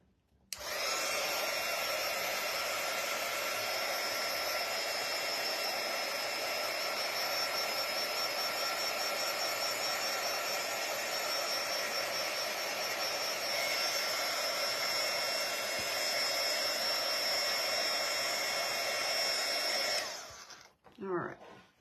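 A hair dryer runs close by, blowing on a painted wooden patriotic angel kit. Its loud, steady whoosh lasts about twenty seconds, then it switches off with a brief click and bump.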